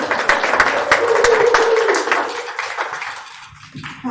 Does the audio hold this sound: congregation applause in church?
yes